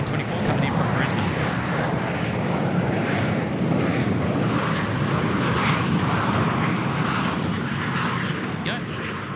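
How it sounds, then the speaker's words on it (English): Airliner arriving at Sydney Airport from Brisbane, a steady broad roar of jet engines that holds level throughout the clip, with rain and wind noise around it. "This aircraft coming in left of screen in just a moment, velocity 924 coming in from Brisbane."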